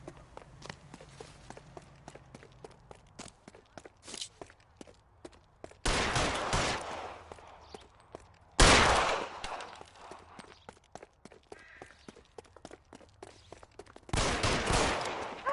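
Gunfire in the video game L.A. Noire comes in three loud, sharp bursts at about six, nine and fourteen seconds. Between them are quieter footsteps and ambient game sound, with no talking.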